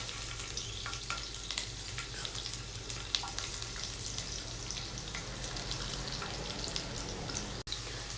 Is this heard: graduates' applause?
no